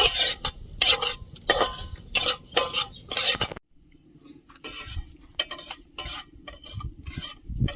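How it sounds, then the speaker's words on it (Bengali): Broken wheat (dalia) being dry-roasted in a pan, with a utensil scraping and stirring the grains in repeated brisk strokes, some clinks of metal, then a quieter low hum after a brief pause. "ডালিয়াটা একটু শুকনো খোলায় ভেজে নেব"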